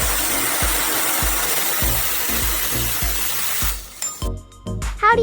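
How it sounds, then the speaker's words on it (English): A high-speed circular saw slices thick metal pipe into rings, giving a loud steady grinding roar broken by regular rhythmic thumps about every half second, then cutting off into scattered clatter and short scraping squeals. "A high-speed circular saw cuts the pipe into ring sections instantly and smoothly."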